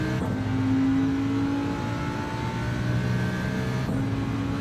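Race car engine droning steadily as a car is driven around a Le Mans circuit in a racing video game, loud and continuous with harmonic whine and slight pitch shifts, no talking.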